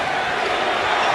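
Packed basketball arena crowd roaring steadily during Game 7 of the 1988 NBA Finals, Pistons at Lakers, a dense, continuous wall of cheering with no break.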